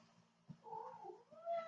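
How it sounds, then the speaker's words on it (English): Domestic cat giving a short, faint, drawn-out meow with a slight wail, close by in a quiet room over a low electrical hum. "sorry, that's my cat."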